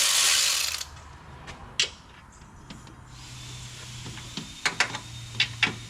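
A ratchet wrench clicks in short bursts while working on the suspension of a 2022 Subaru Crosstrek in a shop, faint and close, following a brief hiss of noise at the start.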